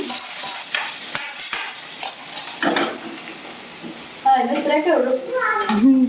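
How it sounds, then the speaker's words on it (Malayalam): Mustard seeds crackle and sizzle in hot oil as tempering for a fish curry, with scattered sharp pops and a steady frying hiss, close by; a voice speaks over the sizzle toward the end. "മീൻ കറിക്ക് കടു വറുത്തൊഴിക്കുന്നു"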